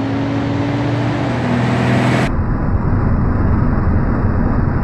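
A Dodge Challenger in BeamNG.drive gives a loud, steady engine roar with a droning tone that cuts off abruptly midway, leaving a flatter rushing noise.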